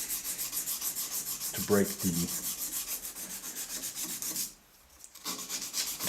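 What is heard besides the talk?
180 grit emery cloth rubbing machined bronze bushing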